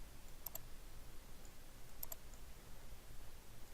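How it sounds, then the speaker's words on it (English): Two quick pairs of faint computer mouse clicks, a middle click during jewelry CAD modeling work, the second pair about one and a half seconds after the first, over a steady background hiss. "Middle click."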